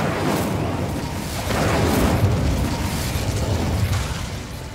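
A fiery spell blast in Hogwarts Legacy rumbles as a dense, roaring burst that swells in the middle and sustains for several seconds, loud and close with no talk over it.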